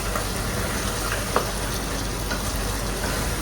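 Meat and potatoes are stir-fried in a pan, giving a dense, steady sizzle up close with a single faint scrape partway through and no speech.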